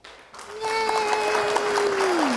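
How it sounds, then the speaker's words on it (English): A canned hand-clap applause effect played on a radio show: dense, even clapping kicks in after a brief quiet start, with a sustained whistle-like tone riding over it that glides downward at the end. "There we go. Hand clap."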